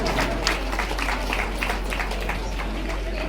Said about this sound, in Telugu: ధన్యవాదాలు, చప్పట్లు.